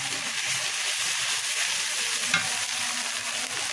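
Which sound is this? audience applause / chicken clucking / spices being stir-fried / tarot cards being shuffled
spices being stir-fried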